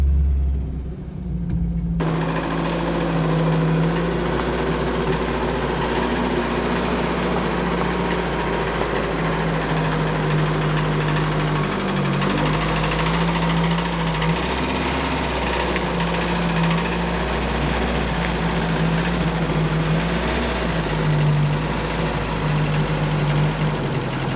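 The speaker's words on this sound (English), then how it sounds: "Just really noisy rocker arms." An abandoned Mercury Capri turbo engine idles steadily after 23 years, its rocker arms clattering in a loud, continuous mechanical rumble with a constant low drone throughout.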